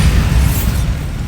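Bombarda spell explosion in the video game Hogwarts Legacy: a loud, deep, rumbling blast that fills the whole moment and sustains its heavy low boom before easing slightly at the end.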